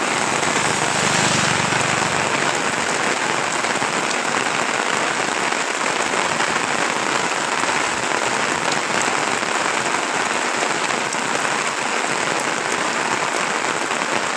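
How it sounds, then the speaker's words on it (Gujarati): Heavy monsoon rain pours down over villages in Mahuva taluka, a loud, dense and unbroken hiss of falling water from start to end, with no one speaking. "આજે મહુવા તાલુકાના ગામોમાં જોરદાર વરસાદ વરસી રહ્યો છે"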